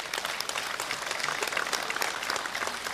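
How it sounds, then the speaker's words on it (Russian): Audience at a public event breaks into lively applause, dense steady clapping from many hands continuing at even loudness throughout. "Давайте, я думаю, бурными аплодисментами поддержим его."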